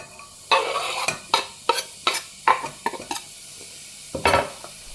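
Chopped onion hits a drizzle of oil in a heavy-bottomed pan, and a wooden spoon stirs it in repeated sharp scrapes and knocks over a soft sizzle. The sound is close and fairly loud, with no voices.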